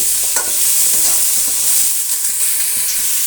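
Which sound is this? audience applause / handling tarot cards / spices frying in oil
spices frying in oil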